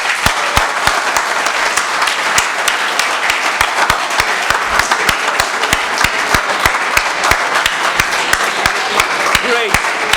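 Large college audience in an auditorium applauds steadily, dense continuous clapping with sharp individual claps standing out, loud and sustained for the whole stretch without a break.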